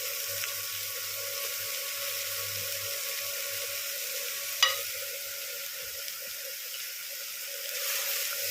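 Chopped medium-sized bottle gourd goes into a pan of fried potato, onion and spices, a steady hissing sizzle throughout with one brief clatter midway and no talk.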